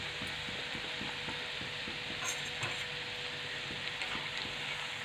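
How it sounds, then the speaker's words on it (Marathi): Pea fritters (bhaji) fry in oil in a kadhai, a soft continuous sizzle with faint, regular bubbling and occasional light utensil taps, quiet and without talk. "छान असे भजे हे तळून घ्यायचे"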